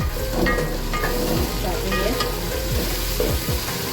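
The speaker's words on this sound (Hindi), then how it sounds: "तो इसको यहाँ पे 1 मिनट तक हम भूनेंगे" Onion, tomatoes, garlic-ginger paste and green chillies fry in hot oil for Pakistani aloo tehri, giving a steady close sizzle broken by repeated stirring scrapes throughout, with no talking.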